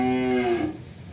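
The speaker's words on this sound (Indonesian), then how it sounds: "Oke, ini sapinya teman." A cow in a farm pen gives a single close, loud moo that fades out after about half a second, with faint background noise.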